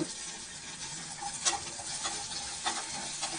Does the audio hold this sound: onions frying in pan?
yes